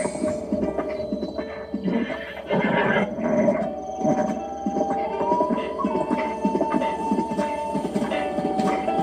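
A horse in Zelda Breath of the Wild neighs while its hooves clop at a stable, with whinnies and hoof beats over game music and ambient tones, and no talking.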